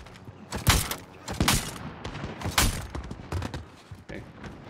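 Rapid bursts of gunfire from the Call of Duty Warzone video game crackle in several sharp clusters at moderate volume, with faint game sounds between the shots.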